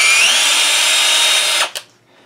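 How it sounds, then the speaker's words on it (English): A power drill runs at speed backing a threaded insert tool out of a bicycle part, whining loudly and steadily before spinning down abruptly, followed by a short click and quiet. "We're just going to back the drill out."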